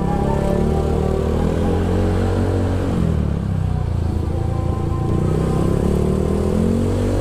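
A Honda Vario 125 second-generation scooter engine drones steadily while being ridden, a continuous close, loud motor hum with rising and falling revs and no speech over it.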